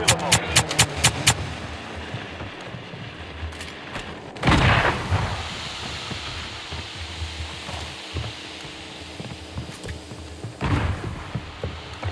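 Gunfire in the video game Call of Duty: Warzone opens with a rapid string of about seven sharp shots, followed by a heavy booming blast midway and another loud report near the end, with rumbling game ambience between.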